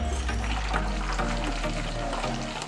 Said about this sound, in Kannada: ಇವಾಗ ಪಟ ಪಟ ಅಂತ ಸೌಂಡ್ ಬರ್ತಿದೆ ನೋಡಿ, ಅದು ಮೊಸರು ಇರೋದ್ರಿಂದ